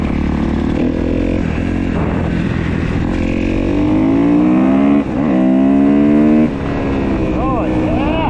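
A 2015 Kawasaki KX250F dirt bike being ridden, its single-cylinder engine revving up and down in rising and falling pulls, loud and steady throughout, with a rider's voice mixed in.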